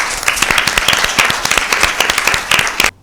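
Steady, dense applause from a studio audience at a Mother's Day Bible quiz show after a correct answer, loud and sustained for about three seconds before stopping abruptly.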